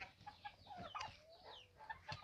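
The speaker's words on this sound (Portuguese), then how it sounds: "aqui está a parte das galinhas e as peruas" Chickens and turkeys cluck in a farm coop, several short overlapping calls and a drawn-out cry at close range, with steady background noise.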